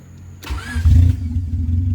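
A car engine cranks and catches just after a new battery is fitted, a short burst of starter whir followed by the motor settling into a steady, close, fairly loud idle.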